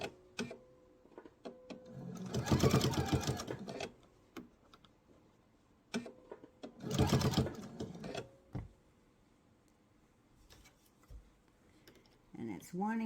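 A sewing machine stitches a laptop sleeve in two main bursts of rapid mechanical whirring, going forward and then in reverse, separated by quiet pauses with small clicks and handling sounds.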